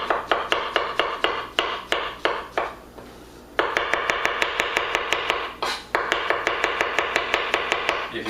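A kitchen knife chopping food on a board, fast steady strokes up close, a brief pause, then a longer even run of crisp rhythmic chops.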